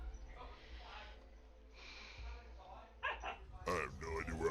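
A dog barking nearby, a few short yips and barks in quick succession, faint at first and louder near the end, mixed with a low background hum and brief voice sounds.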